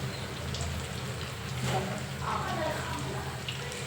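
Cheese balls frying in hot oil give a steady, close hiss and crackle throughout, with voices talking faintly underneath.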